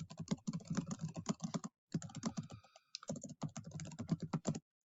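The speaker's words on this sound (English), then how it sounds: "I'm just going to type here what I did" Rapid typing on a computer keyboard while adding a comment in a word processor: quick, uneven clusters of close clicks with two brief pauses, no voice.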